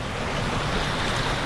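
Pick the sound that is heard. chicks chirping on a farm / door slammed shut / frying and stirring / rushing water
rushing water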